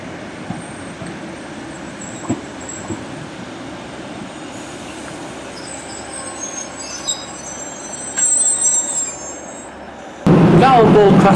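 A Class 156 diesel train rumbles into a station on a route to West Lancashire with squealing wheels and a steady mechanical drone, growing louder and harsher near the end as it draws close.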